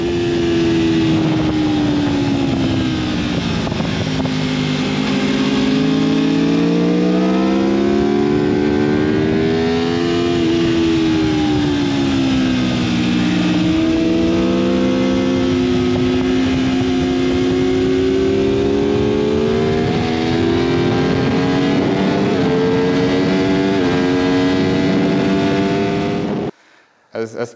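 An Aprilia RSV4 Factory 1100 motorcycle on a race track, its engine loud and close, howling continuously as revs climb, dip and climb again through gear changes for nearly half a minute before cutting out.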